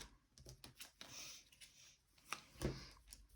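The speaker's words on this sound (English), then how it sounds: "Now you can shuffle." Game cards for the two-player board game Crypt of Chaos being shuffled, with a run of quick, soft papery riffles and flicks and a louder burst near the end, close and fairly quiet.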